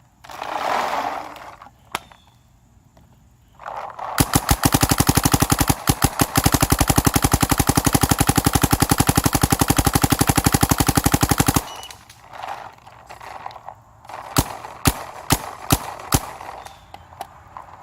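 Dye DSR paintball marker firing a long rapid stream of shots, a loud steady mechanical chatter lasting several seconds, then a few separate single shots close by.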